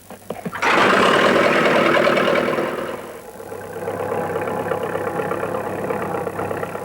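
A farm tractor on Rathlin Island starts with a brief cranking rattle, then its engine catches loudly and settles into a steady idle close by, with no talk.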